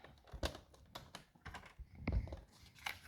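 Card being cut with a paper trimmer or craft knife while making a swing easel card, quiet close sliding and clicking strokes with a few sharp ticks and a soft thud.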